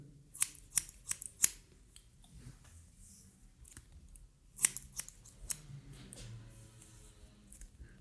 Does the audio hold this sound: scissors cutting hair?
yes